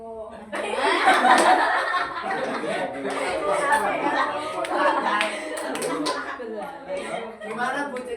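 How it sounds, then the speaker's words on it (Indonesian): Classroom clapping game in which children tap their elbows, shoulders and hands, giving a busy mix of claps and pats under chanting voices and chuckles throughout. "tepuk siku, tepuk pundak, tepuk tangan"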